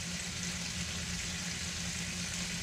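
Food frying in a pan as part of a homemade hot-dog-flavoured pizza, a steady, soft, continuous sizzle with no voices.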